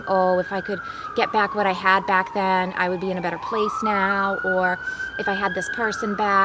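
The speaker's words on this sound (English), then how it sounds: "Sorry for the sirens." An emergency vehicle siren wails outside, loud and rising and falling in long sweeps as it passes, beneath a person speaking steadily throughout.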